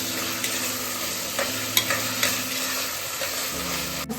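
Ginger-garlic paste stirred and frying in a pan, a steady sizzle under light scraping of the spoon, close and even with a few clicks, no talk.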